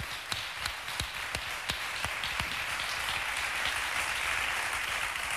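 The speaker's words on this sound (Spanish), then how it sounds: "un aplauso para Humberto" A studio audience on a Spanish TV show bursts into applause, with a few sharp, distinct claps at first that swell into steady, dense clapping.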